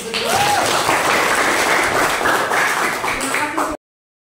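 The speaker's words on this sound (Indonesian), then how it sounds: "sebagai penutup kita kasih tepuk tangan dulu" A class of vocational school students applauds to close a presentation, giving loud, dense, close clapping that holds steady for nearly four seconds before cutting off abruptly.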